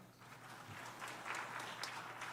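An audience in a Korean church meeting gives steady, moderately distant applause that builds slightly and carries on throughout.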